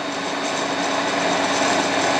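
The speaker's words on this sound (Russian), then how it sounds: "Точу их эльбором." Continuous high-pitched grinding of hardened steel ratchet-wheel teeth against a CBN (elbor) wheel, steady and loud with a dense whine throughout and no pauses.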